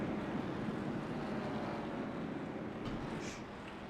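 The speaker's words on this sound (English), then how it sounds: "it is time to hear the roar of these engines" Old-school race cars roar together at an Iowa short track in a dense, continuous wall of engine noise from a distance that fades slightly toward the end.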